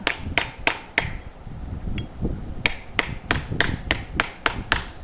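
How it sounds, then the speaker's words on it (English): Sharp, regular blows of a nylon mallet strike metal resting on a wood block, forming a coffee scoop in a blacksmith shop, about a dozen hits in a steady rhythm with a brief pause midway. "Going to use nylon mallet. And I'm just going to start forming this."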